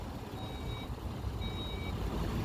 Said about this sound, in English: This car also comes with Skoda's electric tailgate.